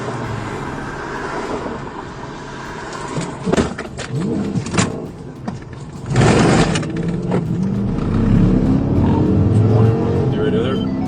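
A fleeing car accelerates away during a police chase, engine noise rising and swelling near the end after bursts of talk and clatter earlier on.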